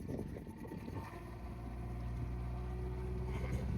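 A boat engine turns over and catches, rough uneven rumble at first settling into a steady low drone, with wind noise across the microphone and no talking.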